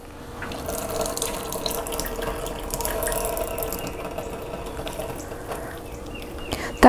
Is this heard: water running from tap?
yes